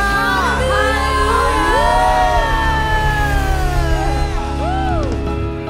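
A church congregation shouts and whoops together in a loud, sustained wave of overlapping voices, with rising and falling cries layered over a steady crowd roar.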